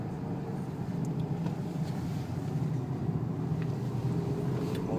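A Renault 2.0 liter turbo diesel car rolling slowly at about 40 km/h on a wet track in the rain, giving a steady low rumble of engine and road noise with hissing spray, close and continuous.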